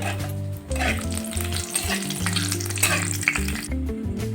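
Green chillies and curry leaves crackle in hot oil as a tempering for Andhra-style chicken curry, producing a loud, constant close sizzle over a low droning hum, with a few sharper pops near the end.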